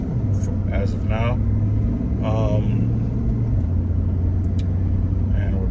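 A Nissan car rolling on four new tires gives a steady low road rumble and engine drone from inside the cabin, under a voice.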